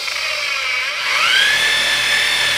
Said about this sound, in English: apply the pliers against the buffing pad and it'll get all the gunk out of there